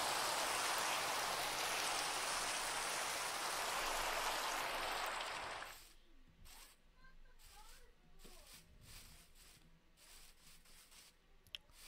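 Steady rain falling in the Minecraft video game, a dense loud hiss for the first six seconds, then cutting off to quieter sparse sounds with a person talking.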